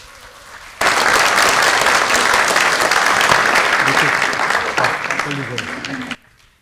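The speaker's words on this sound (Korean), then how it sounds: "큰 박수로 모시겠습니다" Sustained audience applause fills a People's Party extraordinary central committee meeting as party leader Ahn Cheol-soo is welcomed. A dense, even wash of clapping starts abruptly, holds loud for about five seconds, then cuts off.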